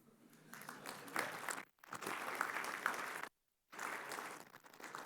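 A conference audience applauds after a talk, a soft, fairly distant wash of many hands clapping that is cut off twice by brief dropouts to silence.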